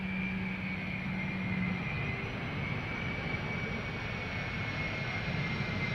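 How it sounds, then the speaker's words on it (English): An airliner at Amsterdam Schiphol Airport, a steady broad engine roar that holds constant for several seconds, fairly distant, with no voices. "This airplane was already flying back and forth"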